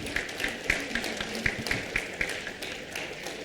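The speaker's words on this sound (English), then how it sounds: "Please give a round of applause to the" Faint, fairly sparse clapping rises from a conference audience at the DECON 2024 inauguration to honour the organizing committee, individual claps landing in a loose, even rhythm at a distance.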